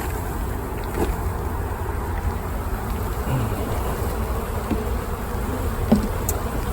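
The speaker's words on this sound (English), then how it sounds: "300 bees apparently in the box." About 300 honeybees buzz inside a box during a varroa mite test, a steady, close, dense hum that holds throughout with a few faint knocks.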